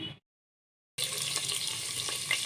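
Whole spices (cashews, cardamom, cloves, cinnamon) frying in oil in a pressure cooker, a steady close sizzle with stirring scrapes that starts abruptly after a brief silence.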